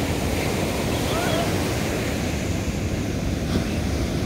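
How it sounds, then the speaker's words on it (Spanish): Steady rushing surf of ocean waves breaking on a beach, constant and close, with wind noise over the microphone. "como escuchen las olas"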